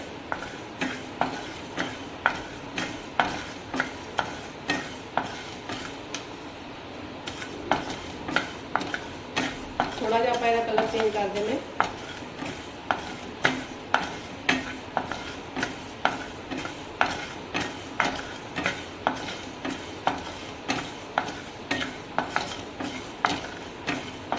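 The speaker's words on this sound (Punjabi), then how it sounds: "ਥੋੜਾ ਜਿਹਾ ਆਪਾਂ ਇਹਨੂੰ ਰੋਸਟ ਕਰ ਲਵਾਂਗੇ ਗੈਸ ਨੂੰ ਮੀਡੀਅਮ ਰੱਖਣਾ ਹੈ" Stuffed tinda gourds roast in oil in a kadai over a medium gas flame, with a utensil stirring and scraping in a steady, regular rhythm of sharp clicks above a soft background sizzle.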